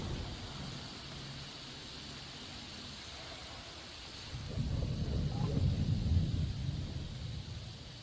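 Rain falling from a storm cloud with a low thunder rumble rising and swelling partway through, steady broadband rain hiss throughout, moderately loud and with no voices.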